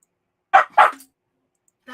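A pet dog gives two quick, sharp barks close to the microphone in an otherwise quiet room, followed by a short pause and the start of another sound.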